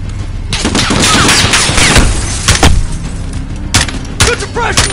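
Dense bursts of machine gun fire and rapid gunshots in a Call of Duty Modern Warfare firefight, loud and close, with booms and thuds mixed in and shouted voices under the shooting.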